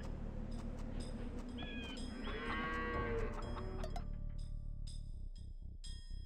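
Sheep bleat in the Age of Empires II video game, joined by other farm-animal calls and chiming game sound effects, all steady and fairly loud over a continuous background hum.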